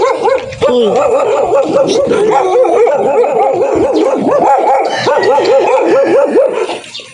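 Several dogs bark, yip and howl excitedly in a rapid, overlapping chorus near the listener on Balicasag Island, with a person briefly shouting at the start.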